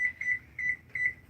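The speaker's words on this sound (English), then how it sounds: "we gotta get through the beeping first" Electronic beeping repeats in three quick bursts of high, bright tones, fairly faint and spaced evenly over a quiet room background.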